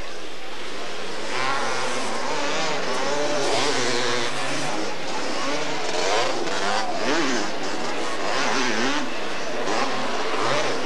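Three-wheeler motorcycles race around a track turn, their engines roaring and revving continuously at mid distance. A commentator talks over the racing.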